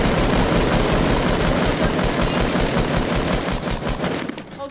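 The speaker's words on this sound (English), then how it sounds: "They're just shooting you." Rapid automatic gunfire rattles continuously in the video game Fortnite, loud and dense bursts that taper off slightly at the end, no voices.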